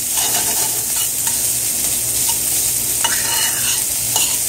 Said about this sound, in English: is almost like a stir fry, because I don't really want the vegetable them cook out